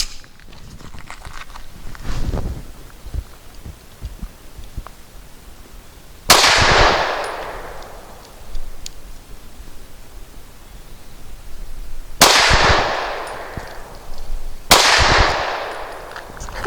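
A SCCY CPX-2 pistol fires Inceptor 65 grain rounds: three loud, sharp shots with ringing decaying tails, the first alone and the last two closer together, over quiet background rustle.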